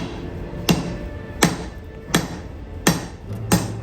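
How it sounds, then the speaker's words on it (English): Hand hammer tapping a bevel onto a steel katana blade: five sharp, evenly spaced metallic strikes about once every 0.7 seconds, close and moderately loud, over faint workshop background noise. "Now what you want to do is take your hand hammer and put the bevel on it."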